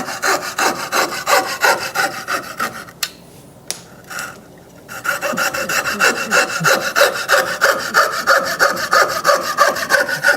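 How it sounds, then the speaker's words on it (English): Coping saw cutting out the waste between dovetails in wood, a steady rasping back-and-forth stroke that pauses briefly midway, then resumes, close and loud. "I'm going to cope it out"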